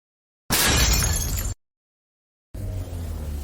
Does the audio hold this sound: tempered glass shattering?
yes